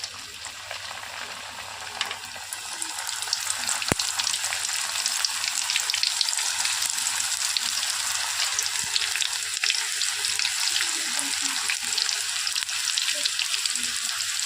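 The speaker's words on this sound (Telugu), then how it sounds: "ఇప్పుడు మరిగిన నూనెలో సమోసాలని వేసుకోవాలి" Samosas frying in a pan of hot oil give a steady, dense sizzle that holds at the same level throughout, with a few faint clicks underneath.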